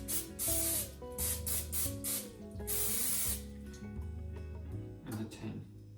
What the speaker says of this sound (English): Now I'm spraying some cooking spray.